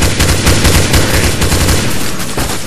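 Continuous rapid gunfire shooting zombies in a video game, a loud dense machine-gun-like barrage with no gaps, filling the whole moment with no voices.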